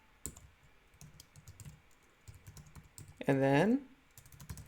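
Typing a URL on a computer keyboard: soft, quick key clicks scattered through the clip, with brief speech cutting in near the end.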